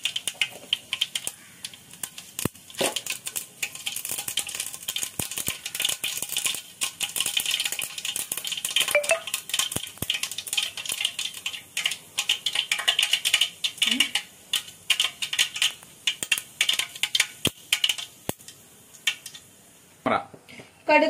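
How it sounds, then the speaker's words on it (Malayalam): Mustard seeds crackle and pop in hot oil while a chicken curry is cooked, a busy spattering of sharp clicks and bursts close by, with a person talking over the sizzle. "ചൂടായ എണ്ണയിലോട്ട് നമ്മൾ ആവശ്യത്തിന് കുറച്ച് കടുകിട്ടു."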